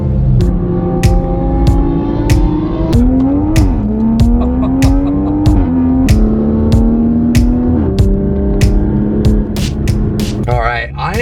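An F90 BMW M5 runs hard in a street race against a Toyota Supra, its engine climbing through several gears with shift breaks and a loud, close, continuous roar, punctuated by sharp clicks and a rough burst near the end.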